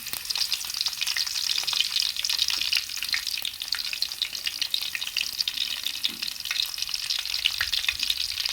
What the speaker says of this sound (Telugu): వెల్లుల్లిపాయలు వేగాయండి మనకి